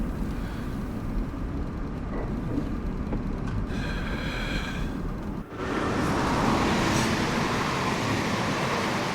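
A train rumbles steadily along the Semmering railway line in a railway simulation game, a continuous loud rolling roar that shifts in tone partway through, with no speech.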